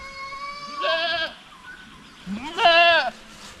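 Two drawn-out goat bleats, each wavering and fairly loud, separated by a short pause with faint background noise.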